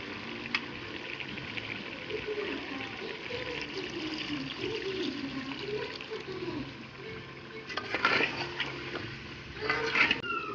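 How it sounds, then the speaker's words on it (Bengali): A small amount of water goes into a pot of meat and potatoes being cooked, giving a low, steady wash of liquid and bubbling with a few brighter splashes near the end. "এবার আমরা দিয়ে দেবো অল্প পরিমাণের জল।"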